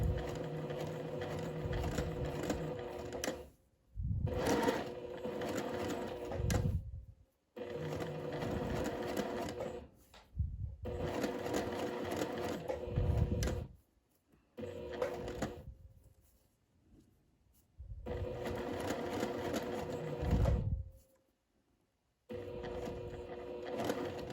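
Sewing machine stitching floating ric rac trim, running in several bursts of steady mechanical whirring separated by short pauses, close and clear.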